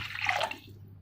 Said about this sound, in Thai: ใส่น้ำนิด